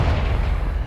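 A single loud, deep Confringo spell explosion booms in Hogwarts Legacy, a close, dense burst filling the whole moment.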